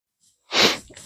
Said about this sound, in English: I pushed the button and now I have to sneeze